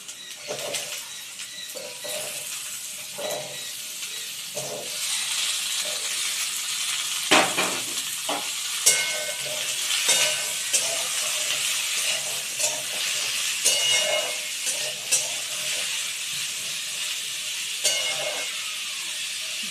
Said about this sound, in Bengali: আমি এর মধ্যে আলুটা দিয়ে দিচ্ছি আলু আর পেঁয়াজটা একসঙ্গে ভাজা হয়ে যাবে